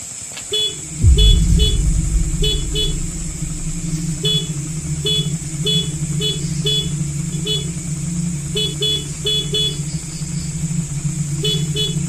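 A motorcycle parked nearby starts up and idles with a steady low engine rumble, while short repeated horn toots sound in quick bursts throughout, fairly close and loud.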